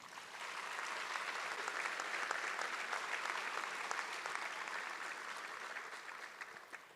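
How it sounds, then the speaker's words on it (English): Steady audience applause fills a hall at a Frederick County fire rescue recruit class graduation ceremony, many hands clapping evenly at a moderate distance before slowly thinning near the end. "Please give them a round of applause."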